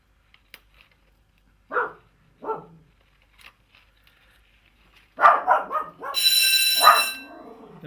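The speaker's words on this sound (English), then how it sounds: "You be quiet, dog." A dog barks in a few short sharp bursts, then a quicker cluster of barks and a yip, near and fairly loud in an otherwise quiet room, with no talk over it.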